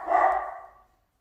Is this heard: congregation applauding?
no